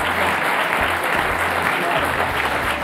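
A conference panel audience claps continuously, a thick wash of many hands holding a constant loudness throughout.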